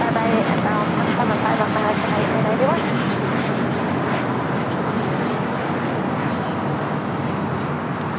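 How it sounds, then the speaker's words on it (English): A United Airlines Boeing 737 MAX 9 taking off at LAX, its engines a broad, steady roar that stays loud and even throughout, heard from a distance with no voices over it. "That was United Airlines Flight 2039 heading to Chicago O'Hara, 737 MAX 9."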